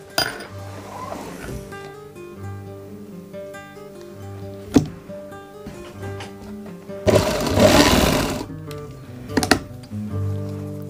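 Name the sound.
sewing machine doing basting stitches on kurti neck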